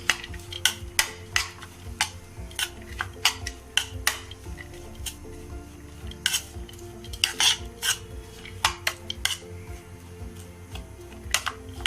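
Cutlery stirs a cheese toast topping mixture in a bowl, making a rapid series of sharp clinks and scrapes against the dish, fairly close, with no talking.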